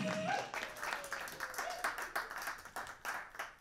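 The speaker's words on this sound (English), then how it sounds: "Yeah, clap for that." Audience applause breaks out at a comedy show in Calgary, steady clapping that fades and flutters over several seconds while a voice talks over it.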